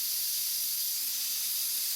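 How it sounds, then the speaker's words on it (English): Steam hisses steadily from the small-diameter superheater, or steam dryer, of a model steam engine boiler: a loud, constant hiss with no break. "I was a bit disappointed at the volume of steam coming out of the superheater or steam dryer."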